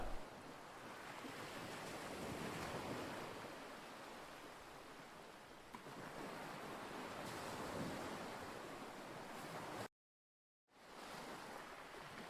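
Ocean waves break and wash steadily on a South Goa beach, a dense continuous roar of surf with gentle swells, briefly cut to silence near the end before resuming.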